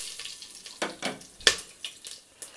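Hot oil crackles and sizzles in short, sharp pops as tempering spices hit the pan, with quiet stirring between.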